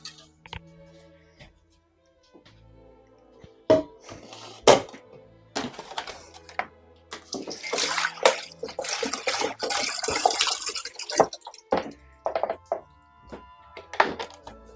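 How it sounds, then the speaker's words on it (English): Water emptied from a pot or container in a home kitchen while making wild garlic cheddar cheese: scattered thunks and clanks of cookware, then a sustained splashing pour in the middle, with more knocks after. "empty out the rest of that water."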